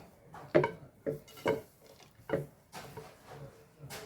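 Utensil scraping and clinking in a pan while flattened rice (aval) is stirred and mixed for sweet aval vilayichathu, a series of distinct close knocks and scrapes at irregular intervals with no talk.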